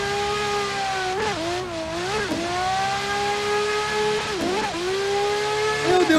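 A drift car in the Assetto Corsa racing game screams at high revs throughout, its engine note dipping and surging repeatedly as the throttle is worked, with faint tire noise underneath.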